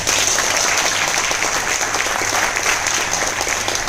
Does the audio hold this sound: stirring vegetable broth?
no